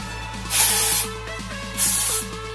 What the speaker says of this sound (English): And the dry shampoo I use is the Batiste Original